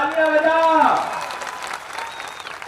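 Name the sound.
applause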